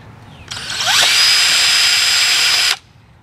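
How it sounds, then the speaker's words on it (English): A power drill with a 1/8 inch bit spins up and bores a quick hole through a greenhouse raised-bed part, a close, steady high whine lasting about two seconds before cutting off. "just drill a quick hole through that."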